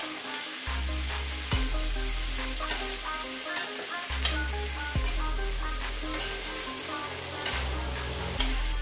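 Eggplant frying in a pan, sizzling steadily while being stirred, with repeated sharp scrapes and clanks of the utensil against the pan at intervals, close and clear with no talking.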